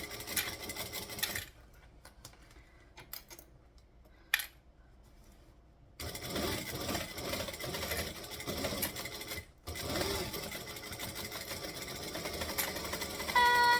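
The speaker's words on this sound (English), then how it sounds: "we're going to stitch, and we're going to back stitch. And then we're just going to cruise around the curve." A sewing machine stitches in bursts, pausing with small clicks between a first run and a back stitch before cruising around a curve, close and moderately loud with no voices.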